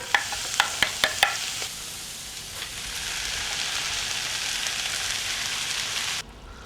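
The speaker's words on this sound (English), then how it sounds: "Do you usually stir your noodles or your pasta with chopsticks?" Chopsticks stir noodles, opening with a quick run of five or six light taps and clicks, then a soft continuous bubbling, sizzling wash that cuts off sharply near the end.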